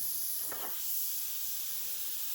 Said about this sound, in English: white sometimes gets hard to spray, so I did mix this fairly thin